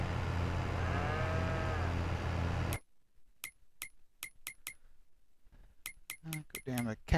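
Cattle low loudly in a Farming Simulator 22 farm scene, their long moos riding over a steady mechanical drone for nearly three seconds before it cuts off, followed by a string of sharp metallic clinks and soft thuds.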